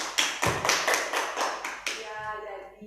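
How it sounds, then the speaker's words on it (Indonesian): Primary school children clapping for a classmate in a first-grade class, a short burst of about eight quick, close claps, after which a voice speaks. "Tepuk tangan dulu untuk Cynthia"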